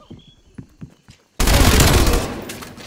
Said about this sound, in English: I shot someone in the back!